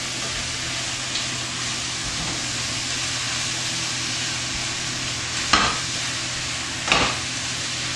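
Baby spinach wilting in a pan with mushrooms and onions, a steady broadband sizzle throughout, broken by two brief louder scrapes of stirring near the end; no voices.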